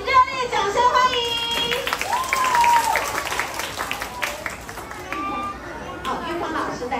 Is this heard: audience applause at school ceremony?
yes